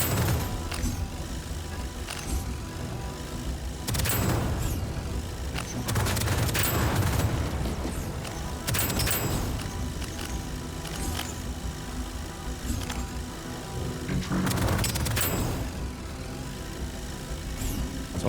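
Pistol gunfire in the video game Deadzone Rogue, scattered single shots and short bursts over a busy mechanical game soundscape, moderately loud with irregular spacing.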